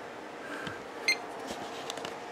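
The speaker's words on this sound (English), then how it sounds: "First, I got a BIOS beep" A PC with a Gigabyte RTX 3070 Aorus graphics card on a test bench gives a single short, high electronic BIOS beep at boot, faint against a steady background hum.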